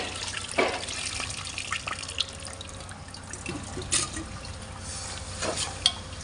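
Tamarind water pours and splashes into a pan in short bursts with small drips and clinks, fairly close and quiet.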